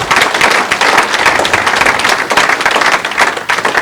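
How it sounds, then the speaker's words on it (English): Dense, close applause from a gathering of landowners honoring volunteer first responders, crisp clapping that swells and dips slightly across a few seconds without talk. "give a round of applause to all the first responders in the United States who are volunteers"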